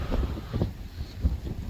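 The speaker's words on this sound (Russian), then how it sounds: "Метель, ветер дует, а здесь вроде как затишье." Wind gusts across the microphone in a snowstorm on a snowy seaside embankment at Arkhipo-Osipovka, giving low buffeting rumbles that swell and fade in uneven bursts, fairly loud and close, with no speech.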